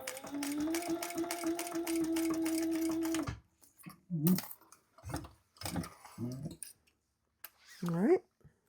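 A sewing machine stitches leather for a crossbody bag in one steady, loud mechanical run of about three seconds, followed by scattered clicks, handling noises and a person talking.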